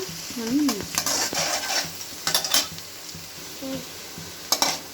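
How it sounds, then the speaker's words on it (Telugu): Onions fry in a pan for chicken curry, a steady close sizzle broken by brisk spatula stirring and scraping strokes, with brief faint voice sounds in the background. "ఆనియన్ బాగా ఫ్రై అయిన తర్వాత"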